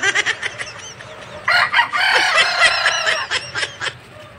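A chicken clucks and crows loudly up close, a burst of repeated calls with no talking.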